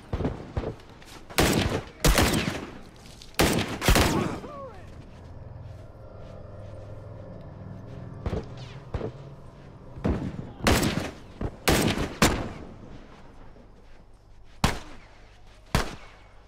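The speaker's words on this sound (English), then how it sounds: "There's one shooting at us." Gunfire rattles through a Last of Us Factions multiplayer match, bursts of loud shots in clusters with quieter gaps between them, while players talk over the action.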